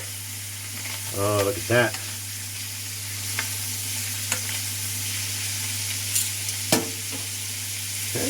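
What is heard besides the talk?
lamb frying and sizzling in a pan as it is flipped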